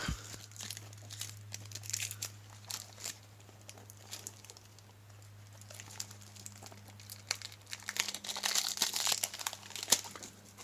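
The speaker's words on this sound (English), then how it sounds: "Nothing like the sound of ripping plastic." Cellophane plastic wrapping is ripped off a Tomica toy car box up close, a quiet stream of crinkling and tearing that grows busier and louder toward the end, over a faint steady hum.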